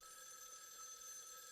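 In the video game Raidou Remastered, an automatic-switch public telephone rings with a faint, steady, high metallic bell tone that continues alone throughout.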